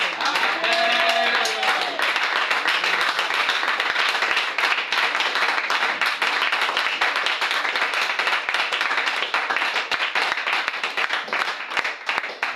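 A church congregation claps and applauds in praise during a French-language worship service, a dense, steady roar of many hands sustained at full volume throughout, with faint voices mixed in.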